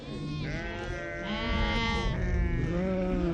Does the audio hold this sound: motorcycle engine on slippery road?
no